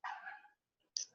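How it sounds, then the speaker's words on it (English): Dogs barking inside a house, two short bursts separated by a brief pause, moderately close and fairly loud with no talk over them. "Can you hear my dogs?"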